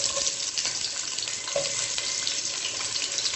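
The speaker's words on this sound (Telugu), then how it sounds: "గిన్నెలో ఆల్రెడీ 2 స్పూన్స్ ఆయిల్ వేసాను, వేడైంది. ఇప్పుడు ఆనియన్స్ యాడ్ చేసుకుందాం." Steady, loud sizzling of onions frying in two spoons of hot oil fills the whole stretch, with faint scraping from stirring mixed in.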